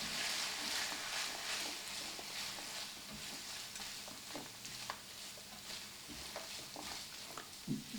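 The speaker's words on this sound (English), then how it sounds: "This sausage that I'm cooking, it's a very lean sausage and it really don't make a lot of grease." Lean sausage sizzles softly in a pan, a steady low frying hiss broken by occasional stirring scrapes and taps.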